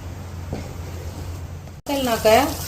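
Ghee sizzling in a pan while almond halwa is stirred, a low steady frying hiss under faint background hum, briefly cut off before a person's voice speaks over it.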